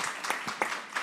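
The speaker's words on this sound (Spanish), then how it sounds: "sí, aplaudimos." Brief scattered clapping from a small group at the close of a talk in a science, technology and gender congress preparatory meeting; a few sharp claps stand out over a soft hiss, with no speech.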